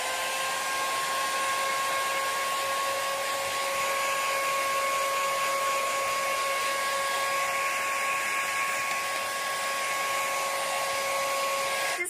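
A hot air styler blow-drying hair runs continuously with a steady whooshing roar and a high tonal whine, unchanging throughout with no talking.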